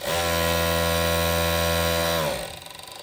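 A Jack E4 direct-drive three-thread overlock sewing machine stitching stretch fabric: a steady, loud motor whine with a strong even buzz for about two seconds, then it winds down and stops.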